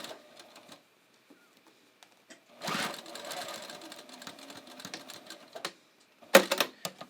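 A sewing machine stitches along the waistband of pull-on pants in short, quiet bursts of fast rhythmic clatter separated by pauses, close by, with a louder clunk near the end.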